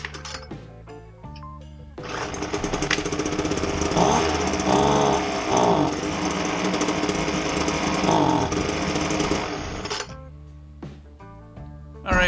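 A Homelite leaf blower engine sputters and then fires up, running loud and buzzy for about eight seconds at a steady idle with little throttle change before shutting off. Scattered clicks and handling noises come before and after.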